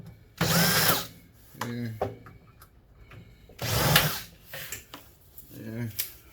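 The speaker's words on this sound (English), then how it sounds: "So I'll take out these safety screws here," A power screwdriver backing safety screws out of a microwave, two long loud whirring bursts with shorter clicks and buzzes between them, close by, with someone speaking briefly.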